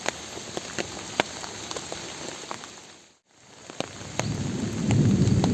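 Heavy rain hisses steadily in the countryside, dips briefly to near silence, then resumes as a low roll of thunder rumbles up under the downpour toward the end.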